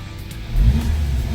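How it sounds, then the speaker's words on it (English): A turbocharged Volkswagen Jetta engine gives a short, close rev, its low rumble swelling midway and then settling into a steady drone. "I'm gonna give it a couple of revs."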